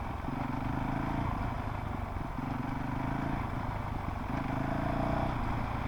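A Honda CRF450RL dirt bike with a reflashed ECU is ridden slowly while the throttle is rolled on and off, giving a faint, continuous engine drone with gentle swells.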